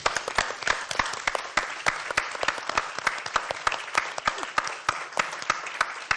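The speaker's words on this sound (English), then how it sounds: "Give a big applause to this." An audience at an event on Afghanistan breaks into applause, a dense sustained clapping from many hands, fairly close and even in loudness across the whole stretch.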